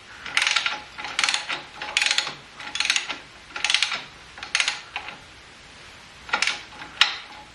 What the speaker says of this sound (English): you can now tighten the shaft all the way. The goal is to seat the bearings against the frame.